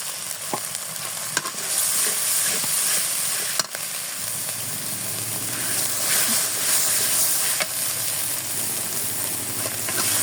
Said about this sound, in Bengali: সামান্য পানি দিয়ে মশলাটা ভালোভাবে কষিয়ে নেব